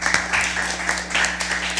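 An audience at a school science quiz claps in a short, steady burst of applause, moderately loud with some crowd murmur, over a constant low electrical hum.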